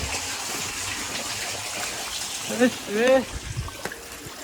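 Water gushes and splashes in a continuous rush at a house, with a person briefly talking over it partway through and a few louder bursts of flow.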